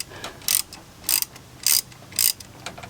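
A hand ratchet loosens an AC bracket on a Ford 7.3 Powerstroke engine, four bursts of sharp clicking spaced about half a second apart, close and with no voices.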